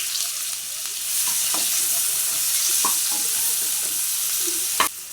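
Chopped medium onions and bay leaves fry in a pan while shrimp bhuna is being made, a steady close sizzle with a few sharp stirring clicks and scrapes, louder near the end, no voices.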